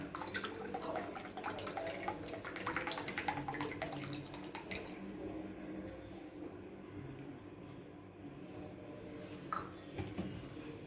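Water poured from a bowl into rice flour makes a soft, continuous splash and trickle at close range. It is busier at first, then tapers to a quieter wash with a brief clink near the end.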